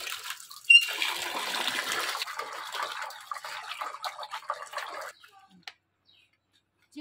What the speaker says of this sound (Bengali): এখন আমি চিকেনটা ভালো করে ধুয়ে নেব।